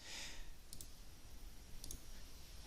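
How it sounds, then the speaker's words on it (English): Two quick double clicks from a computer key, sharp but quiet, about a second apart over a steady background hiss, with no voices. "Click enter, voila."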